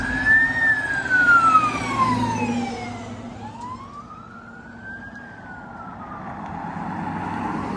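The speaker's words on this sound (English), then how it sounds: "So this will be the fourth fire truck." A fire truck siren wails and sweeps in pitch as the truck passes close by on a slushy road. Its loud rising and falling tone drops sharply as it goes past, then rises again over steady traffic rumble.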